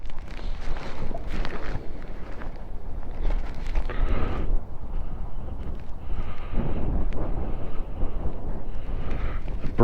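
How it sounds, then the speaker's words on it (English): Gusty wind buffets the microphone at Penn's View overlook in central Pennsylvania, a loud, ragged roar that swells and dips in surges throughout, with no one speaking. "Windy."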